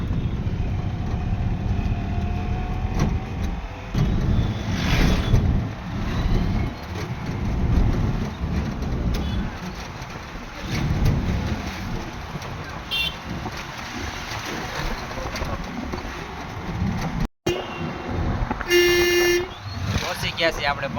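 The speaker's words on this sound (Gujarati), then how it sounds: "ચાલો હવે રિક્ષામાં બેસી ગયા છે." A ride in an auto rickshaw through city traffic brings a steady engine drone and road rumble, with occasional horns and people talking throughout.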